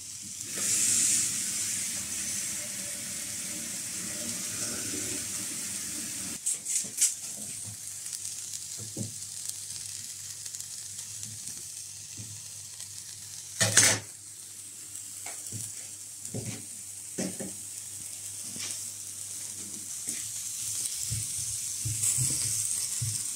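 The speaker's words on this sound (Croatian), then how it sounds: "Luk se peče na plotni i onda ima supa specifičan miris." Onion roasting on a hot stovetop plate, a steady sizzling hiss with scattered crackles and scrapes, a hum setting in partway and a loud clatter in the middle, no voices.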